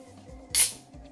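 An energy drink can is opened with one short, loud fizzing hiss close by, over a low background hum.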